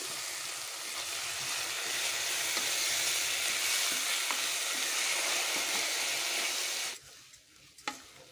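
Soaked dal and rice frying in a pan with cumin and turmeric for hotel-style dal khichdi, a steady loud sizzle lasting about seven seconds before it suddenly drops away, leaving faint clinks.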